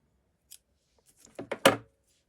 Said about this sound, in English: then cut the yarn